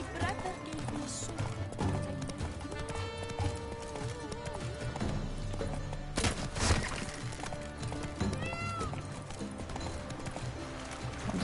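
Horse galloping in The Witcher 3 video game, rhythmic hoof clopping under game music and character speech, with a brief loud burst midway.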